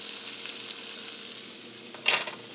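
Garlic is stirred into onions frying in a pan, giving a soft, bright sizzle that swells briefly with a stirring scrape near the end.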